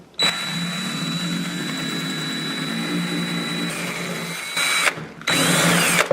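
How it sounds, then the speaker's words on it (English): A power drill whines steadily as it bores through glazed ceramic tile into cement board behind it, pitch dipping briefly near the end before the loud grinding resumes. No voices. "now the drill bit will do the rest"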